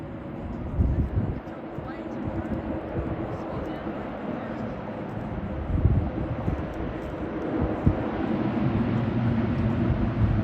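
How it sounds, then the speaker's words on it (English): A C-130 Fat Albert turboprop at an air show rolls out after touchdown, propellers in reverse pitch, giving a steady loud low roar and rumble with wind buffeting, while a voice talks over it. "Now he'll turn the pitch on the propellers and reverse the airplane."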